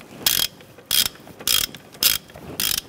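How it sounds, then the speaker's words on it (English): A hand ratchet clicks in five quick, evenly spaced bursts while tightening the wheel hub bolts on a 2006–2013 Chevrolet Impala, each burst crisp and close with short pauses between. "work our way around to the three bolts and tighten these down evenly"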